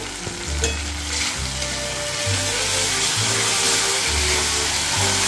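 Palak paneer being stirred in a frying pan, a steady sizzle and hiss with scraping strokes of the spoon repeating every second or so, close and fairly loud with no talk.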